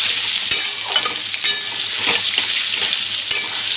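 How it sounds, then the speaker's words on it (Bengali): Potatoes fry in hot oil seasoned with salt and turmeric, giving a loud, close, continuous sizzle broken by a few sharp clicks of stirring, with no talking. "আলুগুলো আমি এই যে লাল করে এরকম করে ভেজে নিয়েছি"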